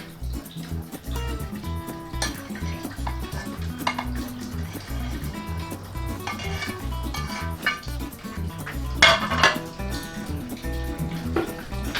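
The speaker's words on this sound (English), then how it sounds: "so it's now time to put the balls and cook it for about 20 minutes." Tapioca pearls made from cassava starch go into boiling water in a pot and get stirred. A utensil scrapes and clinks against the pot, with light bubbling underneath, in an otherwise quiet kitchen.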